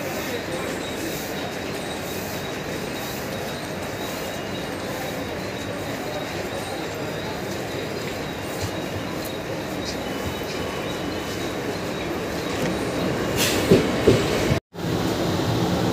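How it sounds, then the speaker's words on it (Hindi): A Mumbai local train pulls into Dadar station, its steady rolling rumble and rail noise filling the platform throughout, with a brief wheel squeal and clatter near the end amid crowd murmur. "देख सकते हैं लोकल ट्रेन आ रही है,"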